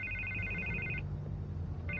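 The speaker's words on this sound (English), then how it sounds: "I can't get the phone to stop ringing." A telephone rings in the Batman Telltale Series video game, a steady electronic trill that stops and then starts again, over a low background hum without talk.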